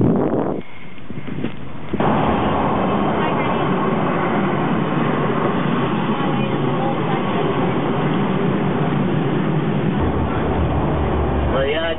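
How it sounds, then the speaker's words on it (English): Interior of a moving Sacramento light rail train, with a loud steady rumble of wheels and rolling noise filling the whole ride and a brief shift in the sound near the start. "I'm here on the light rail using the ticket."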